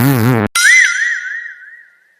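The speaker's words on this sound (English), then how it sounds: "When gas squeezes through a tight opening, it vibrates, making that famous trumpeting sound." A cartoonish fart sound effect, a loud abrupt burst followed by a long wobbling, trumpeting tone that slowly fades out, heard alone.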